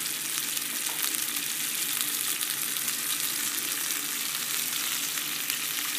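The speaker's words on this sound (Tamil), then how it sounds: "இது கொஞ்சம் கொதிக்கணும். கொதிக்குது." Water with chili paste boils in a cooking pot with a steady, dense sizzling bubble, continuous and fairly loud throughout with no talking.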